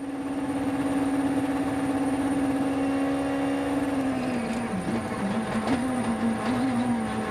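Thierry Neuville's WRC rally car at the 2014 Rally Germany, its engine held at a steady high-pitched buzzing drone with a rapid stutter, then dropping and wavering briefly near the end, loud and close with no talking.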